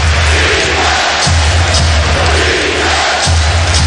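Basketball arena crowd at a Celtics vs Cavaliers playoff game roaring loudly and continuously, a dense wall of cheering and shouting that stays intense throughout.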